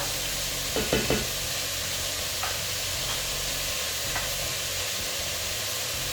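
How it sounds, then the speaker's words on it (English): Kerala black chana curry masala is mixed in a hot pan, a constant sizzling hiss with a few sharp scraping strokes of the spoon near the start and scattered light clinks after. "Give it a mix."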